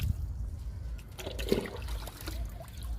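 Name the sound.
liquid fertilizer being poured onto a moringa (drumstick) plant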